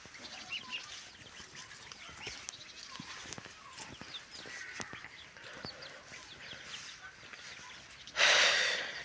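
Young chicks peep and cheep outdoors in a yard, scattered high chirps near and far with occasional clucks and clicks, then a sudden loud burst of noise near the end.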